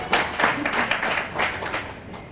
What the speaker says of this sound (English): the teachers we have here clapping and very happy